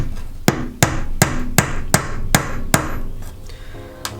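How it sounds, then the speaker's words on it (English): Hammer blows drive nails at an angle into a wooden beehive frame, about eight sharp, evenly spaced strikes close by, ending with a lighter tap after a short pause; no speech. "Nailing on an angle is a pain in the arse, but with a bit of practice it does get a lot easier."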